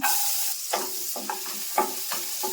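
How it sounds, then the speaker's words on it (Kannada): Chopped onion and garlic sizzle in butter and oil for white sauce pasta, a bright steady frying hiss with a run of quick spatula scrapes and stirs, close and alone. "ಸ್ವಲ್ಪ ಎಣ್ಣೆಲಿ ಫ್ರೈ ಮಾಡ್ಕೋಬೇಕು ಇದನ್ನ."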